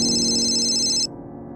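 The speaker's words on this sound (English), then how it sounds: "I heard a loud, muffled ringing coming from behind the wall next to the bed." A loud, muffled telephone ringing from behind a wall, a steady bright ring that cuts off abruptly after about a second, leaving a low hum.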